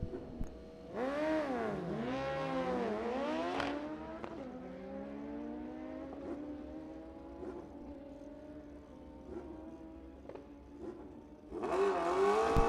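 Drag racing motorcycles, a 2007 Kawasaki ZX14 and a Suzuki Hayabusa, launch on an index racing strip: high engine whines climb through rapid gear shifts, fade into the distance, then a fresh roar returns near the end.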